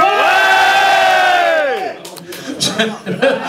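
A bar crowd cheers at a Mononc' Serge concert at Le Bar Orléans: one long, loud, sustained shout lasts nearly two seconds, then scattered whoops and crowd noise follow.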